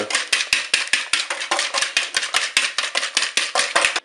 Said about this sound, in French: Je commence par mélanger le beurre avec le sucre.